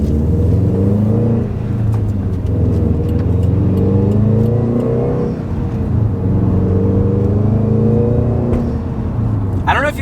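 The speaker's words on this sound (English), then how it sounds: "when I shift, you can hear a little pshh, pshh" A 2015-or-later Subaru STI fitted with a Grimmspeed dry-con air filter pulls hard through the gears. Its loud engine note climbs and drops with each shift, and a brief sharp turbo blow-off hiss comes near the end.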